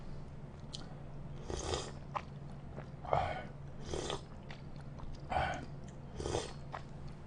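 Mukbang eating of sushi, hire katsu and udon, with close, moist bites and chewing that come in bursts of a second or so, over a low steady hum.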